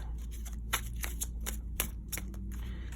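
Quick papery riffling bursts repeat at a steady pace, tarot cards being shuffled close by against a low background hum.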